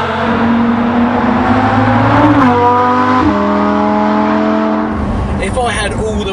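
A Lamborghini Huracan Performante Spyder drives along, its engine droning loudly and climbing in pitch through gear changes, with a revving rise near the end, all recorded from close inside or beside the car.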